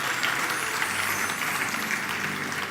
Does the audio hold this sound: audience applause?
yes